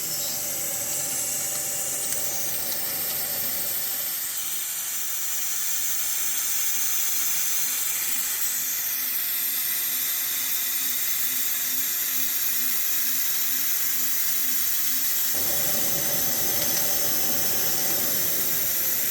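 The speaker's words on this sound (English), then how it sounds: "So the compressed air helps to keep the ream nice and cool, and it also helps to blow the chips out" Compressed air hisses steadily while a reamer cuts the valve guides of a 1978 Porsche cylinder head, a continuous rushing noise with a faint whir of the tool, close and unbroken.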